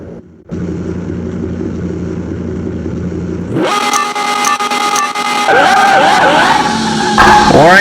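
A Lamborghini Gallardo drag build in Car Mechanic Simulator 2021 idles at the quarter-mile line, then revs hard, the engine note climbing and rising in pitch in loud, close surges.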